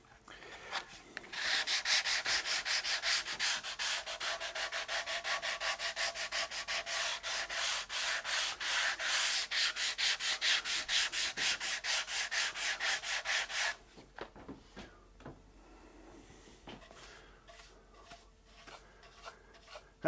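A mahogany guitar body is sanded by hand with 180-grit sandpaper, giving a fast, rhythmic scratchy rubbing that runs close and steady for about thirteen seconds before settling into softer, scattered strokes.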